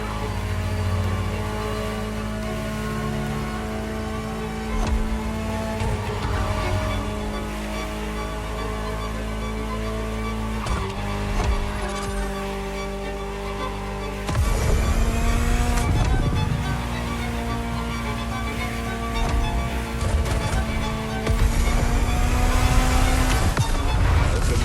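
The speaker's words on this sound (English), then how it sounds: "Just listen to the car you're driving." A Ferrari supercar in The Crew Motorfest drives under a sustained engine drone, pitch climbing through gears with abrupt shift drops and louder surges of acceleration later on, no talking over it.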